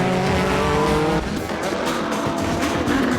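Calsonic Impulse Z, the number 12 Nissan race car, racing in a 2004 JGTC event, loud engine roar and tire noise as cars pass close by on track.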